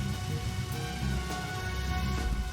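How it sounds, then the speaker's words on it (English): Steady rain falls in the video game Deadly Premonition, a continuous wash of patter over low rumbling game ambience, even and unbroken throughout. "Rain."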